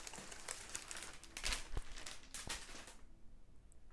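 Crisp plastic packaging crinkles and rustles in bursts while a keyboard is unboxed, close and fairly quiet, settling into near silence toward the end.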